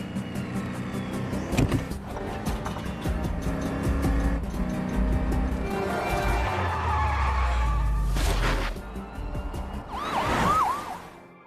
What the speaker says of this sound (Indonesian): ia pun langsung menginjak gasnya untuk kabur